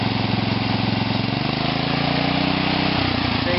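Ofna Raider 2 RC car nitro engine with an ORC carburetor running close by, a loud buzzing whine that settles from higher revs back down to a steadier idle without cutting out.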